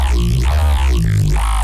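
A sustained, buzzy synthesizer tone with shifting vowel-like filter sweeps plays alone with its tube distortion switched off, its timbre clean rather than gritty.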